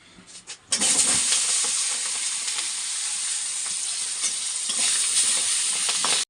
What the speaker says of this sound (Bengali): আর এখন আমি তেলের মধ্যে একটু কালো জিরে দিয়ে দিচ্ছি